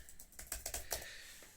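Quick tapping on the keyboard of a Fujitsu Lifebook A3511 laptop, a short burst of about eight crisp key clicks in an uneven rhythm, close and fairly quiet in a still room.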